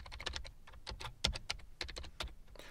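Someone types quickly on a computer keyboard, close up and fairly quiet, giving a rapid, irregular run of crisp key clicks with one louder tap near the middle and no talk.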